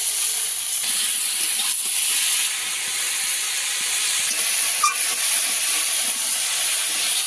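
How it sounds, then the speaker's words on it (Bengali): Ridge gourd stir-frying in a pan gives a steady, loud hiss of sizzling oil throughout, with no breaks and no voices. "একটু ভালো করে নাড়িয়ে চাড়িয়ে ভেজে দেবো একটু সময় দিয়ে ঝিঙাটাকে ভালো করে ভাজতে হবে"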